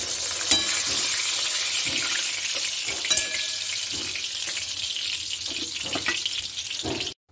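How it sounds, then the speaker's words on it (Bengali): Turmeric-coated fish pieces fry in hot oil in a home kitchen, a steady close sizzle broken by a few sharp crackles and clatters of utensils. "হলুদ মেখে আমি মাছগুলোকে ভেজে নিচ্ছি।"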